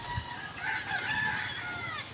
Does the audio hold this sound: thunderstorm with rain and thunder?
no